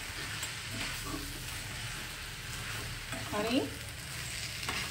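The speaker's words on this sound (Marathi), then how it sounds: "आता सगळं मिश्रण एकत्र करू" Spoon stirring a sticky garden cress seed (aliv) ladoo mixture in a pan, with soft scraping and faint sizzling throughout and a brief louder scrape near the end; a single short spoken word is heard.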